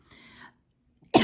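A single harsh cough from a speaker with a mild cold, close and loud, coming right after a brief soft throat noise and a moment of silence.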